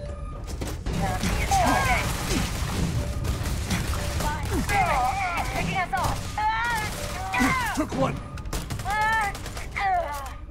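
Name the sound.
turret firing in the video game Starfield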